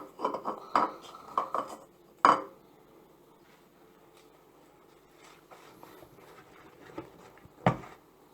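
Egg white being mixed into appam rice batter in a bowl, with a few quick clinks and scrapes of a utensil against the dish, then a loud knock and quieter stirring before a final clatter.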